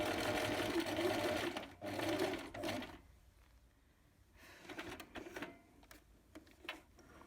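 A sewing machine stitches the hem of a simple cape 2 mm from the edge, running quick and close in steady whirring bursts, then slower short runs after a pause.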